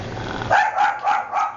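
A dog barks several times in quick succession, close by and fairly loud, with no talking.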